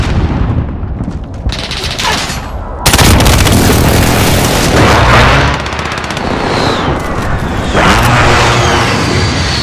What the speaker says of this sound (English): Friendly precision airstrike on the way.